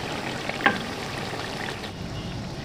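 Tomatoes fry in a karahi over a high flame for mutton karahi, giving a steady, close sizzle with one sharp utensil tap early on.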